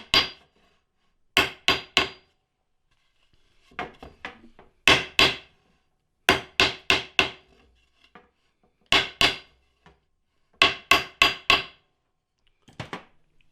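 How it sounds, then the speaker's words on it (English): Sharp metal hammer blows peen nails on a snowshoe frame in quick bursts of two or three strikes, separated by short pauses and quieter tapping, recorded up close. "Now we'll peen the rest of those nails so that make sure they're as tight as possible."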